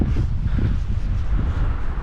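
Strong, steady wind buffets the microphone on a very cold hike near McCargo Cove, a loud continuous low roar with no pauses throughout.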